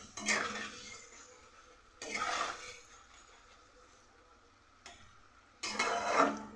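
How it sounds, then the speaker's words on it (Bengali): Masala paste of turmeric, salt and a pinch of sugar fries hard in oil over a high gas flame for a hilsa fish dish, with three loud bursts of stirring and scraping over a low, steady sizzle. "এবার গ্যাসের ফ্লেমটাকে বাড়িয়ে মশলাটাকে ভালো করে কষিয়ে নেব।"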